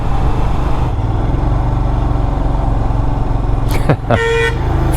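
A bus roars past close beside a motorcycle on an Indian road, loud steady engine rumble throughout, ending in a sharp sweeping rush and a short burst of horn tones near the end.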